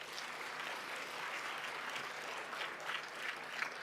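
Faint, steady applause from an audience at a constitutional colloquium, a soft continuous patter of many hands heard from a distance with no voices on top.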